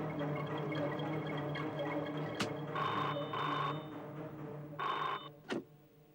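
A telephone rings indoors in two distinct electronic trills separated by a short pause, fairly faint over a low steady hum, with a sharp click or two nearby.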